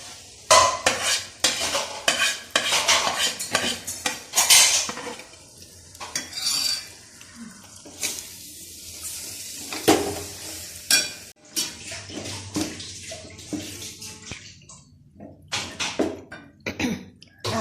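A roasted ground spice paste is scraped into a pan over sautéed onion, green chilli and ginger for a stingray curry, then stirred, giving repeated close scraping and clinking of a utensil against the pan with faint sizzling.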